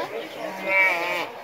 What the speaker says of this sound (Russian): Приближаемся к барашкам и козлятам.